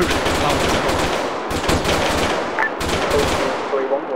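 Rapid automatic gunfire in ArmA 3, dense bursts of loud close shots in quick succession with brief pauses between volleys, while a voice speaks briefly over the shooting.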